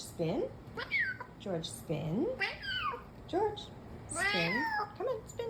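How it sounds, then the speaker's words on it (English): A cat meows repeatedly in drawn-out, rising and falling calls, fairly close and loud, mixed with a person speaking encouragingly over it. "I've heard a cat sound like this before."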